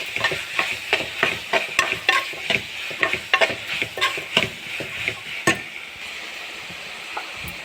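A spoon scrapes and stirs spiced black chickpea biryani masala with chili powder in a pan, over a soft sizzle. The clear, rhythmic strokes come close together, then ease off into frying alone.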